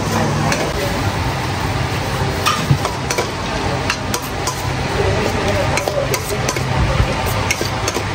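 Fried duck is stirred and tossed with soy sauce, chili powder, chili oil and garlic, giving continuous scraping and clinking with light sizzling, close and loud.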